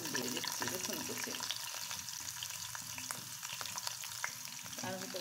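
Chopped garlic sizzling in hot oil with cumin and dried chillies, a dense close crackle with scattered sharp pops and spoon scrapes, continuous for several seconds.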